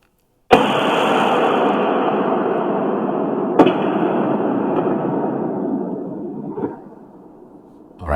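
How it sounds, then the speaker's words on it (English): A drone explosion outside Moscow: a sudden sharp blast opens into a long rolling, echoing roar, broken by a second crack partway through, then fades into a distant rumble before another noise at the end. "so that was the explosion of the drones."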